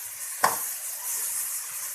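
A big tomato dropped into a hot pan for bisi bele bath, one sharp splat followed by a soft, low hiss of sizzling that continues faintly with no talk.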